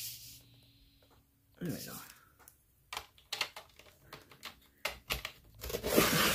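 Scissors cutting paper for a papercraft project: a few short snipping and crinkling bursts, close and moderately loud, with a brief spoken phrase partway through and quiet rustling between cuts.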